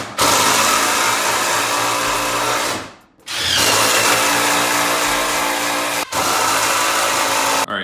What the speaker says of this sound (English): I'm doing this the craziest way possible with the Ryobi Impact driver with a 1/2-inch bit adapter to this socket